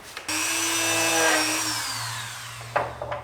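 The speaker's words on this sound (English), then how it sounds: "Dremel work is complete" A Dremel rotary tool grinds on the studs of a Mitsubishi Evo 9 car frame, a close, steady high-pitched whir that winds down in pitch and ends in a few faint clicks.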